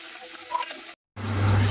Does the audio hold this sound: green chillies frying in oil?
yes